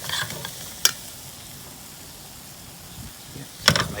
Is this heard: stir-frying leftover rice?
yes